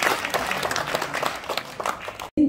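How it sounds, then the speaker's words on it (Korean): Audience applause fills a badminton club's anniversary ceremony and officer inauguration, a steady wash of many hands clapping that cuts off abruptly near the end, followed by a short burst of sound. "박수 주세요."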